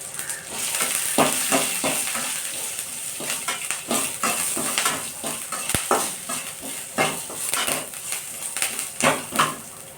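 Shallots and curry leaves fry in a pan with a steady, close sizzle, broken by frequent scrapes and stirs of a utensil and occasional clinks against the pan.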